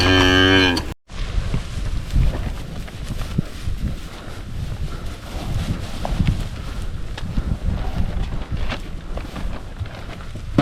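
Pedigree Angus and Hereford cattle, heifers and steers, low loud moos at feeding time in an open farm field, several overlapping calls with wind buffeting the microphone throughout.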